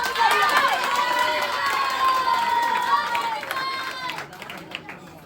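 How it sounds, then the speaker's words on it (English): A crowd at an Independence Day celebration claps and cheers loudly, with children's shouts and voices layered over continuous applause that fades toward the end. "Today we all are clapping for our nation"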